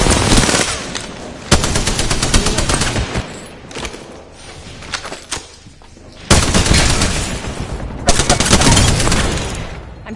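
Heavy automatic gunfire in the video game Apex Legends, loud sustained bursts and rapid volleys with brief lulls between them, close and dense throughout.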